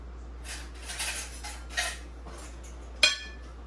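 A spoon is picked up in a kitchen while cooking with avocado and eggs, making a few light metallic clinks of cutlery spaced over several seconds, the last one sharpest, with no talking.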